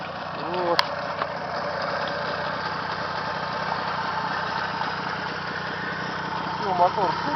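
Small motor idling close by, a steady low rumbling drone held evenly throughout, with brief faint voices in the background.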